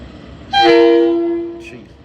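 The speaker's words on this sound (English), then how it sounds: "Train does enter the platform pretty slowly." A TranzAlpine passenger train slowly pulls into a station platform and gives one loud, sustained horn blast lasting under a second, with a faint short tone right after, over low background rumble.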